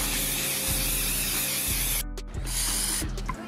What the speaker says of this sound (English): we're done spraying all the pieces of paper